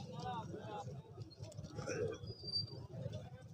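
Pigeons coo at the crowded Lari Adda pigeon market in Lahore, soft low cooing mixed into steady market babble and someone talking close by.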